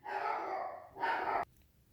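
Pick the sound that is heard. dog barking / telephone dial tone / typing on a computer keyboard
dog barking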